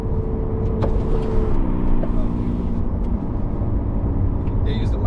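A 2024 Ferrari 296 GTB engine drones loudly with a steady hum that shifts up in pitch as it pulls away, while people talk over it.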